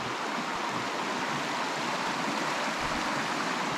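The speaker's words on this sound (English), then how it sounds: "This is Bright Angel Creek." Bright Angel Creek rushes steadily at the bottom of the Grand Canyon, a loud, continuous broadband wash of flowing water close by with no voices.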